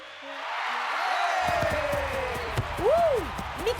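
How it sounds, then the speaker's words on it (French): A cartoon crowd of football supporters cheers and whoops in a stadium, a steady roar with rising shouts, while a voice talks over it. "Le chèque veut que la foule de supporters fasse encore plus de bruit."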